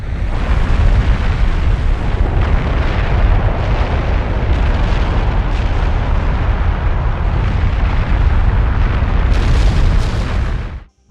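Deep, continuous roaring rumble of the Fuego volcano erupting in Guatemala, loud and sustained for several seconds before cutting off abruptly.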